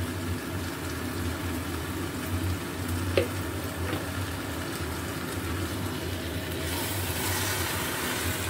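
Ghee sizzling in a pan while cooking cabbage dalna, a steady soft frying hiss with an occasional faint clink, continuing unbroken throughout at moderate volume.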